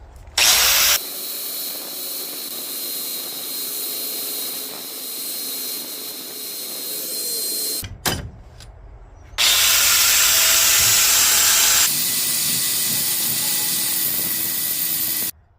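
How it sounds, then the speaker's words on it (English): Angle grinder with a diamond wheel grinding teeth into the spine of an Alpha Tracker knife: a loud, sustained high-pitched whine, a brief pause with clinks, then a second long harsh grinding pass, all close and without talk. "That diamond wheel on my angle grinder worked very well on that."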